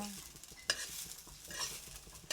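Tender sorghum (jowar hurda) roasts on a griddle with a soft, faint sizzle, marked by a couple of sharp scraping clinks from turning the grains, close by.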